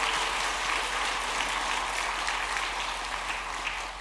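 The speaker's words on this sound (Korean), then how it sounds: "우리 찬양팀과 연주팀에게 박수 한번 드리겠습니다." A church congregation applauding the worship and music teams during a Sunday afternoon service, dense sustained clapping from many hands that fills the room evenly and continues without letting up.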